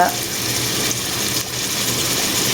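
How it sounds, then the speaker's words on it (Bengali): Onion slices frying in a little oil with salt, giving a steady, close, broadband sizzle that holds evenly throughout without a break. "পেঁয়াজটা একটু লবণ দিয়ে ভেজে নিব"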